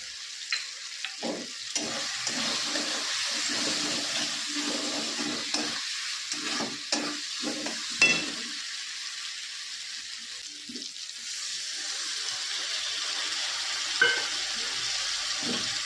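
Ground chili, cumin and turmeric sautéing for a bhetki fish head curry, a continuous sizzle with a few scattered knocks and clinks of the spoon against the pan, close by, with no voices, over about sixteen seconds.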